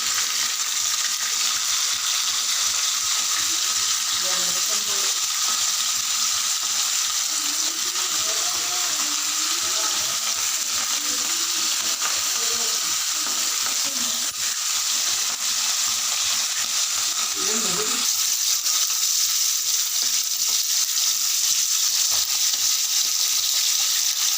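Dry fish kabab frying in hot oil, a steady broadband sizzle and crackle running continuously throughout, close and fairly loud, with no voices over it.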